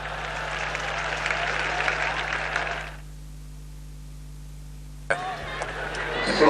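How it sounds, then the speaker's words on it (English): Crowd noise at a 1984 one-day international cricket match between Pakistan and New Zealand, a broad roar of cheering after a batsman is bowled, fading to near silence midway before the noise rises again. "A great cheer as Javed Miadad comes in."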